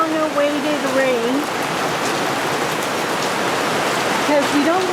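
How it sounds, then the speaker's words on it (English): Steady rain falls in a dense, even hiss, with faint tonal chirps drifting over it at the start and end. "We're getting a long-awaited rain"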